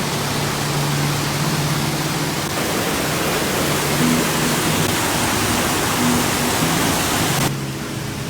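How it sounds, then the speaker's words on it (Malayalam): A small waterfall in the hills of Kalangi, Kannur, gives a steady, broadband rush of falling water close by, continuous throughout with no voices. "സ്പോട്ട് കിട്ടിയാണ് ചെറിയൊരു വെള്ളച്ചാട്ടമുണ്ട്"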